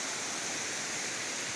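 A river flowing beside a plot of land in Mindanao, a loud, steady broadband rush of water with no breaks, heard up close with no voices.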